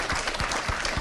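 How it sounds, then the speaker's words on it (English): Applause from an audience at a college community meeting, a short burst of many hands clapping together, fairly loud and close, with no talk over it. "Let's applaud our students just for being here"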